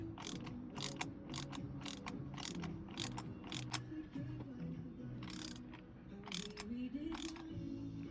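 A wrench tightens spark plugs on a Vauxhall Mokka 1.4 engine, making a quick run of close metallic ratchet clicks in bursts over a low background hum.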